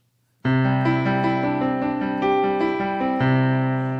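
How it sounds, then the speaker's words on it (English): Piano chords ring out after a brief silence, sustained and rich, with several changing harmonies played close and moderately loud. "So the original piano sounds like this."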